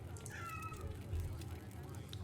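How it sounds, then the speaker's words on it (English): A house cat cries with a couple of short meows in the background, faint and partly buried under steady low room noise and a voice talking. "that is my cat crying in the background"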